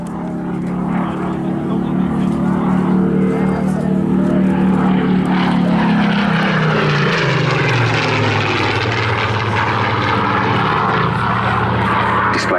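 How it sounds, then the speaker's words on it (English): A Battle of Britain Memorial Flight Spitfire roars past at Southport Airshow, its propeller engine droning loud and shifting in pitch as it passes, with an announcer talking over it. "Captain Jamie Rankin, DSO DFC, in formation with two other THUM Flight Mark 19 Spitfires, PS853 and PS915, to form the historic aircraft flight"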